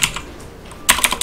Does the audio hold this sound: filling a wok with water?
no